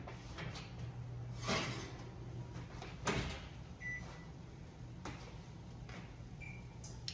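An oven is opened to take out roasted rutabaga and parsnips, a few dull thumps and clacks of the door and pan over a steady low kitchen hum, with a couple of faint beeps, quiet and close.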